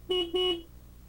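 Two short, bright beeps of a small vehicle horn in quick succession, close and clear, then quiet.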